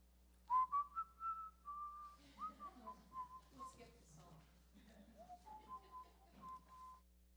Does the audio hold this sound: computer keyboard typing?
no